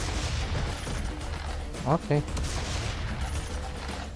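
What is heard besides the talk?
double-barrelled shotgun firing in video game Serious Sam 3 BFE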